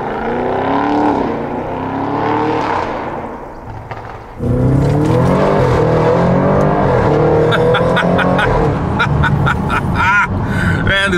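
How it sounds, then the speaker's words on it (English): A loud car engine revs hard, its pitch climbing and dropping through repeated surges, with a brief dip before roaring up again close by. "this car rips"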